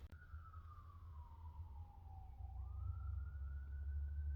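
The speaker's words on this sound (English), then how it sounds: "Sirens, because I'm in the city, right?" A single siren wails from a distance in a city, its pitch sliding slowly down and then rising again over a steady low rumble of urban traffic.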